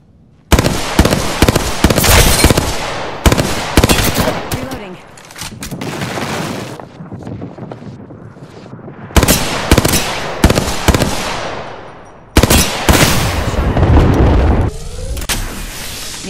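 Loud automatic gunfire in the video game Apex Legends comes in several rapid bursts, with short pauses and trailing echoes between volleys.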